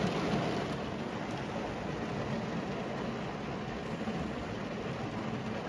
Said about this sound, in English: I really don't like rain like this.